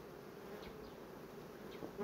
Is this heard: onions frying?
no